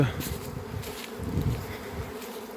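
A swarm of honey bees buzzing loudly and steadily around a beehive, a dense close drone with no speech.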